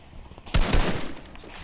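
Gunfire in Fortnite: a short loud burst of shots cuts in abruptly over quiet background, a few rapid close cracks that then trail off into a fading rumble.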